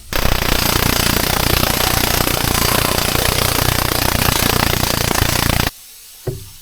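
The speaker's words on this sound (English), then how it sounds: "we'll put a more aggressive die on the planishing hammer" A planishing hammer fitted with an aggressive die pounds a steel front fender patch panel for a Ford F-series truck, a loud rapid continuous hammering that stops abruptly, followed by a single brief clank.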